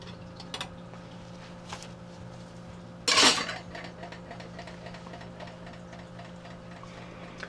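A metal IKEA utensil drying rack, used as a hobo stove, being taken apart: a single sharp clatter of metal parts near the middle, with light clicks and taps before and after against quiet room hum.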